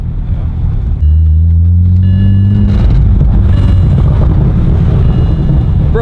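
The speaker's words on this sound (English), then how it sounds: "Bro, it's burbling like crazy" BMW E92 335i with a manual gearbox idles close by, a loud low engine and exhaust drone that swells with a rev and then keeps burbling and rumbling under wind buffeting.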